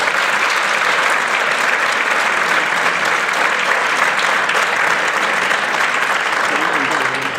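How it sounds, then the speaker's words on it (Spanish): An audience at a jota album presentation applauds two sister singers, dense sustained clapping that stays loud and even throughout. "Un fuerte aplauso para ellas."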